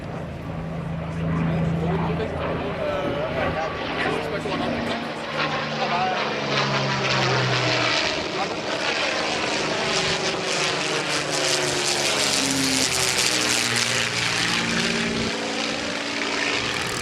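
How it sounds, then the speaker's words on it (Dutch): A P-51 Mustang propeller fighter named Scat-7 flying over at the Ursel Avia 2018 airshow, a loud sustained engine drone whose pitch sweeps as it passes, with a voice talking underneath. "Hun P-51 is genaamd Scat-7, het vliegtuig van de Amerikaanse generaal Robin Olds"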